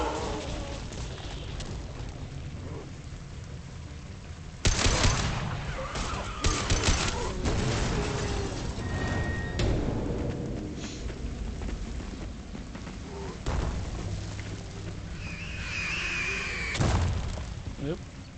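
Gunfire and explosive blasts from the video game Mass Effect 2 as bombs are shot, bursts of shots and booms over game music, with a person talking intermittently throughout.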